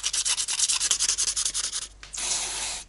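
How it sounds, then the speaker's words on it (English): Sandpaper rubbed back and forth on a removed brake caliper slider bolt from a Mazda MX-5 Miata, a quick run of rhythmic scratchy strokes followed by a longer steady rub, close and alone. "I'm going to use some sandpaper to smooth down the surface."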